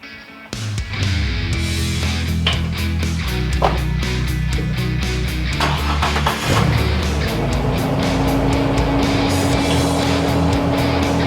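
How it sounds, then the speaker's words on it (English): An old Ford EB Fairmont, left sitting for years, starts and drives, its engine a loud close drone that rises and steadies over several seconds with rattles and cabin clatter, no one talking. "let's see if we can get this thing out for one last drive as it is"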